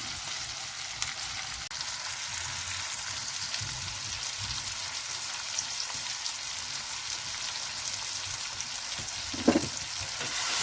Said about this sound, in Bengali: লঙ্কাটা খুব ভাজবো না, জাস্ট একটু সটে করব। এবার দিয়ে দিলাম তেঁতুলের কাপটা